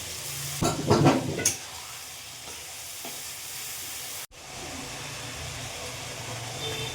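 Garlic paste hitting hot oil in a pan, a burst of loud crackling and stirring at first, then settling into a steady sizzle that continues to the end.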